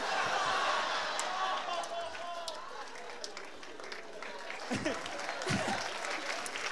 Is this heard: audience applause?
yes